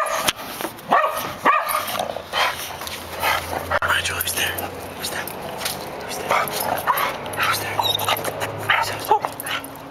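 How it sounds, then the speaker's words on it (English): A dog barks, yips and whimpers repeatedly in a backyard with lingering snow, sharp close barks mixed with softer whines while a person talks over them. "Well, I hear Rigel barking, so maybe we'll go out in the backyard and see what's going on out there"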